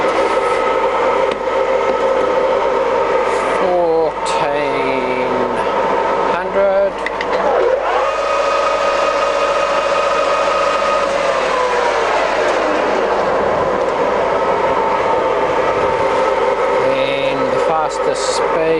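A TOS SN50B centre lathe with a 2000 mm bed runs at speed 2000, giving a loud, steady mechanical hum with whining tones that rise and fall as the spindle speed shifts.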